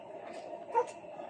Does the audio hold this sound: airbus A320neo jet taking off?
no